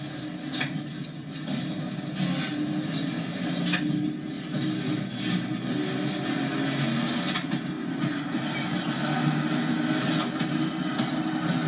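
A passenger train departing Ropes Crossing, New South Wales, rumbles steadily along the tracks with a low, continuous roar and occasional high metallic squeals and clicks, close by and without speech.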